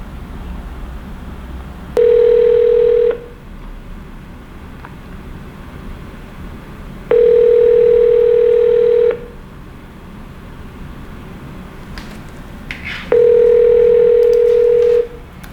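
Telephone ringback tone during an outgoing call, three steady buzzing tones of about a second each separated by pauses, loud and alone against faint line hiss.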